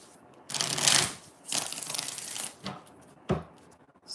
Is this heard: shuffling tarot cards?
yes